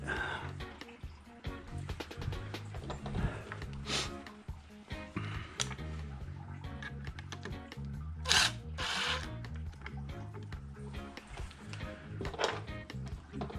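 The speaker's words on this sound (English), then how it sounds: "We'll put the second screw." A screw is driven into the front brake assembly of a Harley-Davidson Electra Glide Ultra Classic, short bursts of whirring from a power driver with clicks and handling noises, close and moderately quiet.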